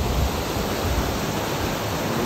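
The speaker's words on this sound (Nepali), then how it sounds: "फाइनली हामी रूपसे झरना आइपुगेको छ है त।" Steady roar of the Rupse waterfall near Jomsom, dense and continuous broadband rushing water heard close and loud with no voices.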